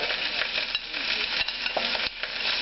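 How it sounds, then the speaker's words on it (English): Chopped carrot and garlic go into a hot pan where oxtail pieces have been browning, giving a steady close sizzle with light stirring scrapes throughout. "So I'm adding the carrot."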